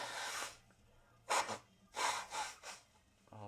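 Someone struggling to clear a blocked nose, with a first long breathy blow followed by three short forceful snorting bursts, close and fairly quiet, with no talking.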